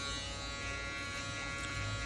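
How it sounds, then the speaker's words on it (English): Electric foil shaver buzzing steadily close up as it cleans stubble during a barbershop burst fade haircut, a continuous even hum with no talking. "now with my foil shaver, I'm just going up and cleaning up all that stubble"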